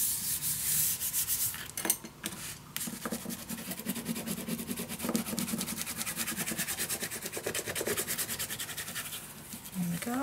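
Paper being burnished down onto a mini album page by hand, a steady close scratchy rubbing that continues throughout with brief pauses and a few knocks.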